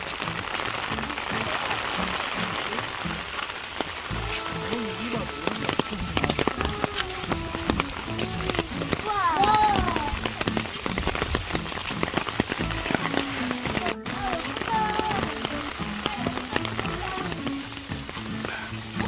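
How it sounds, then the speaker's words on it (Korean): Rain falls steadily on surfaces at a garden on Jeju Island, a constant patter of drops all the way through, with faint voices in the background. "근데 비가 와서 좀 아쉽네요"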